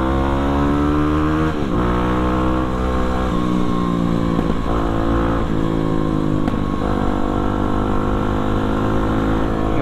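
A KTM RC 250 or KLX 250 motorcycle engine that bogs down before picking up and wants to be held at high RPM revs up and down repeatedly, loud and close, with no talk.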